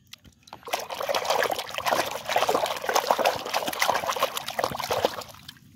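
A purple plastic toy animal, a sea lion, being washed in water, with continuous trickling, pouring and sloshing for several seconds, close and fairly loud.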